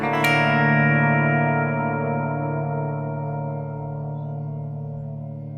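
A single guitar chord is strummed from the low sixth string up through the higher strings, played with dark, atmospheric effects. It rings out loud and sustained with heavy reverb and echo, then slowly decays, with no voices over it.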